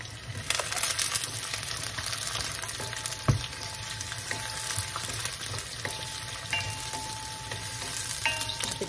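Onions sautéing in a pan for sinigang na bangus sa miso, a steady moderate sizzle with occasional stirring clicks and scrapes, no voices.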